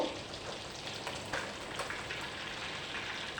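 Ingredients for a Bengali bhorta fry in a pan with a soft, even crackle, like light rain, and faint stirring scrapes.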